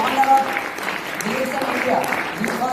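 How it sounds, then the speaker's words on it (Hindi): An audience at a business success-story event claps continuously at moderate volume, while a speaker talks over the applause throughout. "लेकिन जोरदार तालियां डॉक्टर सिंह चौधरी के लिए,"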